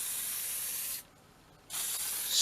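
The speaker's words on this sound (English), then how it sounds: "So I'm just going to spray really fine" A spray paint can hisses fine coats onto a miniature Talisman character figure. There are two close, bright bursts with a short silent pause between them.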